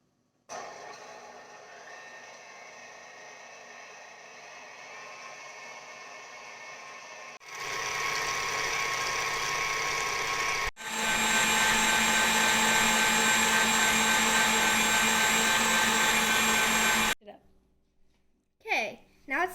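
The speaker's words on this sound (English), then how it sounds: "Now we are going to mix our cream" An electric hand mixer whipping cream for pumpkin pie topping, a steady loud whirring drone that steps up in speed partway through, runs continuously, then cuts off with some handling clatter at the end.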